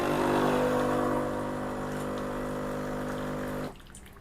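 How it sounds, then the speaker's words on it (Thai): A Dolce Gusto Genio S capsule coffee machine runs its descaling cycle with plain water, giving a steady close pump hum with flowing water that weakens slightly, then cuts off abruptly near the end, leaving near quiet. "ตอนนี้เป็นการเข้าสู่โหมดล้างตะกันนะครับ"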